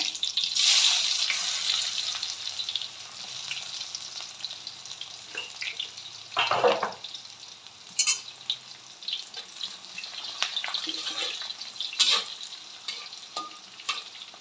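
Chopped onion added to hot oil already holding popped mustard seeds and cumin, for a home-cooked khichdi of anganwadi rice, bursting into a loud hissing sizzle that eases into steady frying with occasional stirring clinks.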